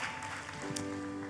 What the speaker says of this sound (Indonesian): Tepuk tangannya yang terbaik bagi Yesus Tuhan.